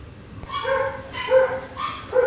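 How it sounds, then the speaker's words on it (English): Three short barks ring out in quick succession, fairly close and clear, with faint background noise. "Sorry about the dogs barking in the back."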